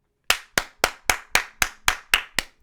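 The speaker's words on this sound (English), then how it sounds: "Clap it up for yourselves." Several people clap in nine sharp, evenly spaced hand claps, close and loud, each ringing briefly before the next, with no talking over them.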